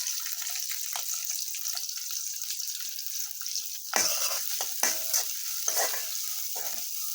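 Red chili paste and dried chili frying in a hot pan while fish curry with green banana is cooked, giving a steady close sizzle with sharper bursts and stirring scrapes in the second half.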